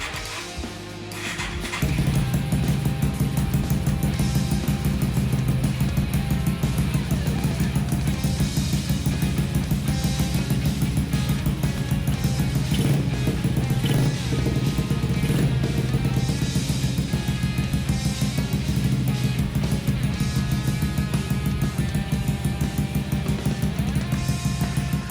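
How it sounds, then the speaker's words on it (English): A motorcycle idles through a straight-pipe exhaust with no end caps, a steady, loud, low thumping rumble that holds an even rhythm for the whole stretch, with no talking. "This thing has a super truck exhaust without the end caps on."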